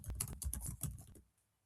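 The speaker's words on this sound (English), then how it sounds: "Forgive my frantic typing here while I just try and find this." Rapid, frantic typing on a computer keyboard, a quick flurry of close, soft key clicks lasting about a second before stopping, quiet with no talk.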